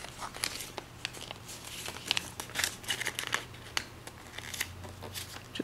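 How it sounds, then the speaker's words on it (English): A sheet of paper is folded and creased into a needle-style paper plane, producing close, crinkly rustling and soft sliding scrapes in irregular bursts, with no talking. "Fold it so that this tip comes in lines with this tip."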